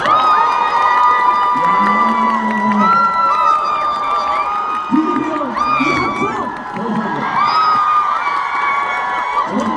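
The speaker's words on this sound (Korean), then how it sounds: "드디어 이 함성!" A concert crowd at a televised music show roars with cheering, whoops and high shouting, loud and continuous, while voices over a microphone and a bright tonal background run through the swell.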